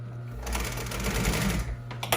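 Sewing machine back stitching an upholstered dining seat cover, a quick burst of rapid mechanical stitching lasting about two seconds, close and fairly loud, followed by a couple of small clicks.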